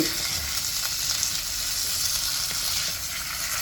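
Loud, steady sizzling and frying as food is added to a hot pot while cooking a Thai dish, close and continuous with faint stirring clatter.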